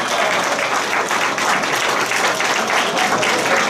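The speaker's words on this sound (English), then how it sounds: "let's give John Bomroy here a round of applause for his music" An audience gives a loud, full round of applause for a musician at a Right to Life event, dense clapping from many hands that holds steady throughout.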